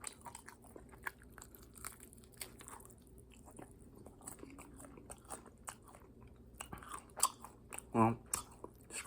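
Close, crunchy bites and chewing of sweet, slightly spicy Korean fried chicken wings, with quiet irregular crunches and one louder burst of chewing near the end.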